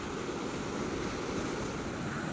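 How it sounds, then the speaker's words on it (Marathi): Strong sea waves crashing against rocks on the Konkan coast in rainy weather, heard as a steady, dense roar of surf blended with wind buffeting, with no talking. "समोर एकदम दगडांना एकदम जोरदार लाटा आपटताना पाहायला भेटत आहे"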